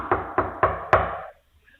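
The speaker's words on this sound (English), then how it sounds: "Can you please knock really hard on the door?" Four hard, evenly spaced knocks on a door, loud and close, each a sharp thud; the last is the heaviest, then quiet.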